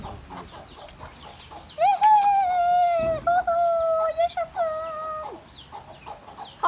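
Chickens and chicks on a farm, with a loud, drawn-out squawking call rising and holding for a few seconds amid softer clucks; people talk nearby before and after it.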